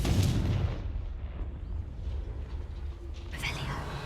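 Confringo fire spell blast in Hogwarts Legacy, a deep booming explosion at the start followed by rumbling low noise and another crackling burst near the end.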